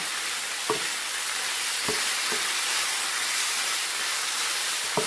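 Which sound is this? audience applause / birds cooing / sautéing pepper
sautéing pepper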